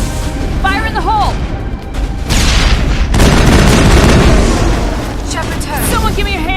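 A loud grenade explosion in the video game Mass Effect, a deep booming blast with rumbling aftermath that fills most of the few seconds, close and heavy, with combat shouts around it.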